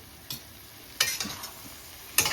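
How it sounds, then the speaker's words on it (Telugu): Spoon scraping and stirring in a pan as tamarind juice is mixed into ivy gourd (dondakaya) masala, three distinct scraping strokes over a soft background hiss, close up, no voices. "పులుసు వేసేసి చక్కగా ఒకసారి కలిపేసుకోండి"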